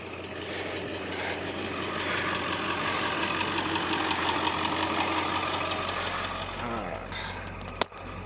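Steady low diesel rumble from a 1994 Ford F250 with a 7.3 diesel engine, running continuously at close range with a brief sharp click near the end.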